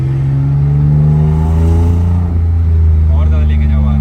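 A car engine is held at high RPM during a sound-system tuning session, a loud, steady drone with strong low harmonics that shift slightly in pitch, while people talk over it.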